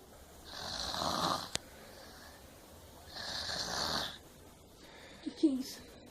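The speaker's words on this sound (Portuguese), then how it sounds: "hoje eu vou falar sobre minha mãe roncando" A woman snores in her sleep, with two long, rasping snores separated by quiet breathing, a sharp click, and a short snort at the end.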